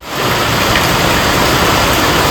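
Rain pours steadily in Dhule, a dense, even hiss that holds at a constant loud level for the whole stretch, with no voices.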